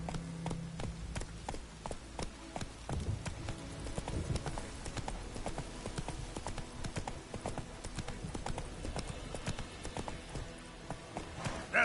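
Roach, a horse in The Witcher 3 on PS5, gallops with a steady, close clip-clop of hooves that keeps a driving rhythm throughout, over a low bed of game music.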